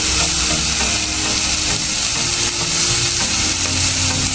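Spices with turmeric and red chili powder sizzle steadily while stirred over low heat for a vilayati chinch (Manila tamarind) vegetable dish, a continuous close frying hiss with no voices.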